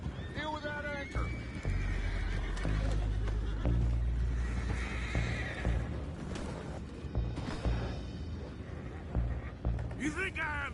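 Horses in Red Dead Redemption 2 whinny and neigh repeatedly amid hoof clip-clop, crashes and busy action, with voices talking over the scene throughout.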